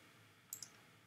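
Mouse clicks while working in Onshape CAD software, a few small sharp clicks, faint and close, against a quiet background.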